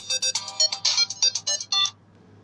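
A telephone ringtone plays loud and close as a quick melodic run of electronic beeps for about two seconds, then stops abruptly into quiet.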